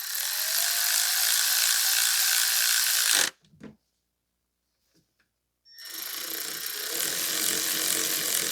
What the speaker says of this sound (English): going to run it through with our electric ratchet